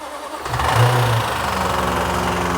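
Jaguar F-Type SVR with a faulty engine starting up: a brief crank catches into a loud, close idle that runs rough and uneven right after startup.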